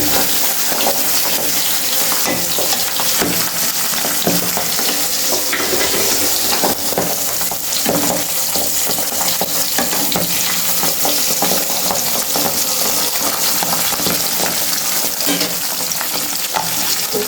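Pabda fish fry in a wok, three at a time, giving a continuous loud close sizzle with stirring scrapes and some watery crackle throughout, no talking.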